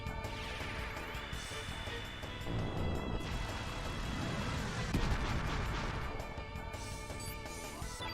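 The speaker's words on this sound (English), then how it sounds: "Let us use Fire Pillar." Fire Pillar spell effect from Chrono Cross on PS1, a loud sustained roaring blast with crashing, explosive bursts over layered battle music, swelling midway and holding steady to the end.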